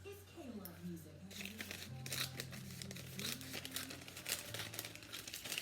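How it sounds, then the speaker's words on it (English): Brown paper lunch bag being folded in half and creased, giving close crinkling and rustling paper sounds that run steadily throughout, with a voice talking over them. "I'm gonna fold it in half this way."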